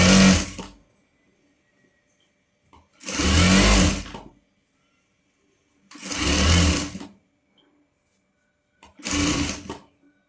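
A sewing machine stitches an umbrella frock in four loud, separate bursts of running motor, each a second or so long, with short silent gaps between them.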